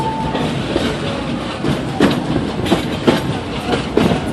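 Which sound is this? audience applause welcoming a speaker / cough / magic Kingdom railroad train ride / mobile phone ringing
magic Kingdom railroad train ride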